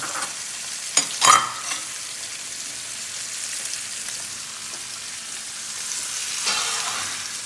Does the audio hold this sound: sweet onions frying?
yes